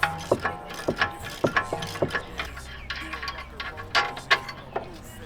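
Ratchet clicking on an M14 triple square bit holding a rear strut bolt on a VW MK7 GTI, a series of close, sharp metallic ticks in uneven bursts.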